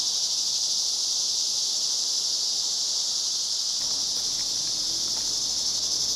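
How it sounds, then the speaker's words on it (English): Loud cicadas in southwest New Mexico fill the air with a steady, piercing high buzz that holds unbroken throughout, close and overwhelming, with no voices. "The sound is absolutely deafening, and you can't even stand to sit underneath the cicadas"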